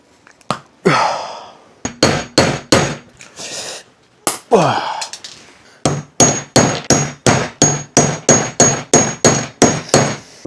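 Brass rivets are hammered by hand into denim dungarees: sharp, loud metallic blows in irregular bursts, then a fast steady run of about a dozen strikes with short ringing tails.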